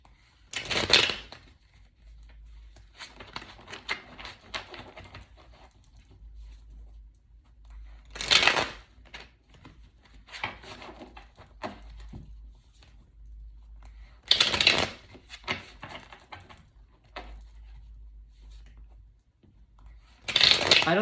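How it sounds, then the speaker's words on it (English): Tarot cards are shuffled in four short, crisp riffling bursts several seconds apart, close to the microphone in an otherwise quiet room. "Let's pull you some tarot cards."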